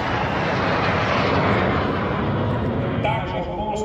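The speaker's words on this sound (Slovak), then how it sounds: "skupinu vrtuľníkov UH-60 Blackov" UH-60 Black Hawk military helicopters passing over a large military parade, a loud, steady roar of rotors and engines filling the whole stretch.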